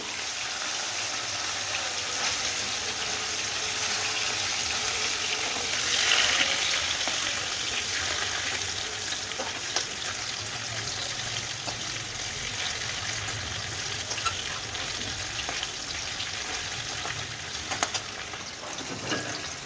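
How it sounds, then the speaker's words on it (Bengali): Paneer frying lightly in oil gives a steady, even sizzle and hiss that runs the whole time at moderate loudness. A slight surge comes partway through, and there is no talk. "পনিরটা আমি একদম হালকা করে ভাজবো।"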